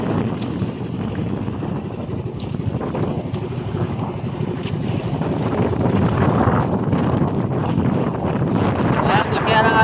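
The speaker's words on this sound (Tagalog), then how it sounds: "Lalong naglakihan ng alon guys." Large sea waves surge around a small boat in strong wind, making a constant roar and heavy wind buffeting on the microphone that builds in loudness. Occasional faint voices can be heard beneath the noise.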